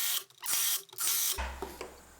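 A Skil or DeWalt power driver sinks screws in a series of close, loud bursts, each whirring run separated by brief pauses, with a lower rumble toward the end.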